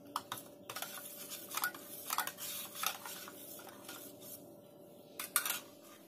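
Spice mixture of coriander powder, red chilli powder and turmeric being stirred in a bowl for pakoda kadhi, with a series of soft, close scraping and clinking strokes in a quiet kitchen.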